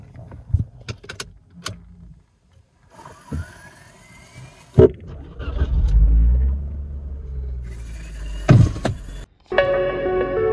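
Car driving through a small residential colony, a low engine rumble rising and settling with a couple of sharp knocks and clicks, fairly close and with no talk.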